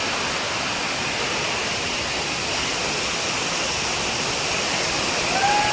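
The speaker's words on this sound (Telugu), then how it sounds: "చూడండి వాటర్ ఫాల్ ఎలా ఉందో" A waterfall at Ahobilam temple in the Nallamala forest of the Eastern Ghats gives a loud, steady, close rush of falling water with no pause for the whole stretch, and no voices.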